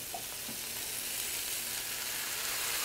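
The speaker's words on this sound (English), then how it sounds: "And now I'm gonna throw my tomatoes in." Tomatoes hit a hot pan for osso bucco and sizzle steadily, a dense, loud, continuous frying hiss held close throughout, with no talk.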